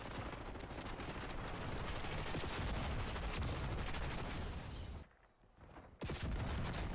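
Rapid gunfire from shotguns and other weapons in the video game Black Ops 6, loud and dense for about five seconds, then a one-second lull before the shooting resumes.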